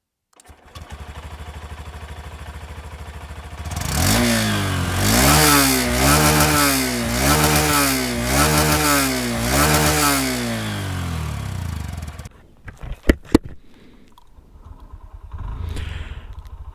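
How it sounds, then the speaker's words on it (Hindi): A Honda SP Shine motorcycle engine starts up and idles with a steady thumping exhaust note, then gets several rhythmic throttle blips. It is close and loud, and the engine cuts off near the end. "आपको इसका एग्जॉस्ट नोट सुनाता हूँ"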